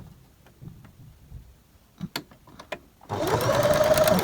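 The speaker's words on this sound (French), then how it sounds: "Je prends mon ouvrage que j'installe sur ma machine à coudre et" A sewing machine starts stitching an embroidered Advent calendar pouch, a few handling clicks and taps first, then a loud steady mechanical whir of the needle running continuously up close.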